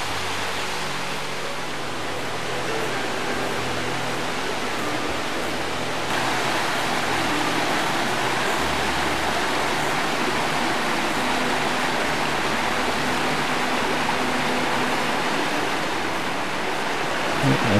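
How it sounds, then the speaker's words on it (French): Small waterfall about 6 to 8 metres high beside a river on a hiking trail near Vence, a steady broadband rush of falling water that stays constant throughout, with low rumbling underneath. "Il permet quand même cette petite cascade agréable de 6 à 8 mètres de hauteur."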